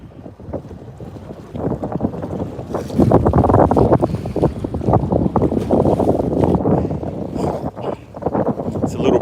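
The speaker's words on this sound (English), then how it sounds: "Breezy out here on the main lake." Strong wind gusts across a lake, heard from a bass fishing boat out of the coves. Loud, rough buffeting roars against the microphone throughout, with a faint voice partly buried beneath it.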